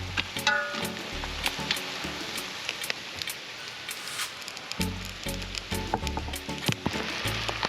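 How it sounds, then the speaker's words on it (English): Oxtail crackles and sizzles in a pot over an outdoor cook pit, with intermittent clanks and scrapes as it is stirred, close and fairly quiet with no voices. "this is oxtail on an outdoor cook pit"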